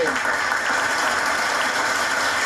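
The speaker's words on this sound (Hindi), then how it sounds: "जोरदार ताली हो जाए" Audience applause at an Independence Day celebration held by a temple committee, dense rapid clapping from a crowd, loud and steady throughout.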